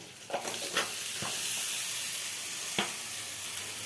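Mung dal, potato, pumpkin and chili sizzle and hiss softly in a hot pan, a steady fry with a few brief clinks and stirring scrapes.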